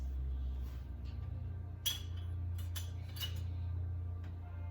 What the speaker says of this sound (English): One tiny little pot to put our lids in, and we will put those in right now.